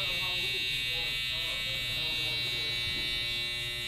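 An FXONE electric hair clipper buzzes steadily during a haircut, a constant close high-pitched drone with faint voices talking underneath.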